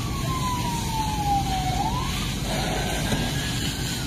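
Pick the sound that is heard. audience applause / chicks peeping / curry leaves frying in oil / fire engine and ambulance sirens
fire engine and ambulance sirens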